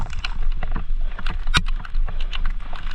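Mountain bike splashing and churning through flooded woodland trails during a downpour, with continuous watery sloshing and rumble, and one sharp splash or clatter midway.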